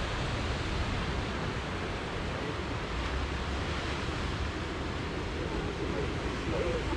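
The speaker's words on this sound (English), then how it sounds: "And liftoff of Sentinel-6" Falcon 9 rocket lifting off from Vandenberg AFB carrying the Sentinel-6 ocean satellite, heard as a steady, dense roar across the whole stretch, broad and unbroken like heavy surf, with no talk over it.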